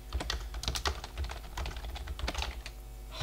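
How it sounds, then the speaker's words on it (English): Quick, uneven keystrokes tap on a computer keyboard close to the microphone in short bursts of clicks that go on throughout. "I suck at typing, YOLO."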